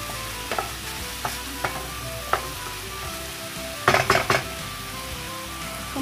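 Spring onions and chicken fillet sautéing in a pan, a steady sizzle under light clinks of a spatula, with a quick cluster of scraping knocks near the end.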